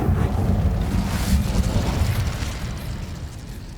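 Incendio fire spell cast in Hogwarts Legacy, a loud sustained roaring whoosh of flame with heavy low rumble, steady throughout and slowly easing off, with no talk over it.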